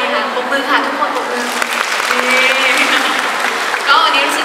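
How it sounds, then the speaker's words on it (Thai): An audience claps steadily and loudly through a jazz concert evening at an Italian Grand Weekend event, a dense sustained patter with voices audible in the crowd. "ปรบมือค่ะทุกคน"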